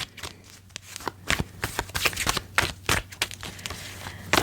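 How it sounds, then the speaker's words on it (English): Tarot cards are shuffled close up, a rapid run of crisp riffling snaps and soft slaps coming in uneven bursts, with no talking. "I was shuffling and shuffling and shuffling"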